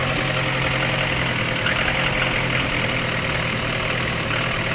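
A VAZ 2110 car engine idles unevenly, a steady close rumble with a slightly lumpy, unsteady beat running throughout, with no talking over it.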